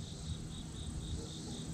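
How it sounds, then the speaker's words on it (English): A honeybee hovers close to a person at a bee farm in September, giving a steady, fairly loud buzzing drone that pulses softly and continuously. "There's a bee on me."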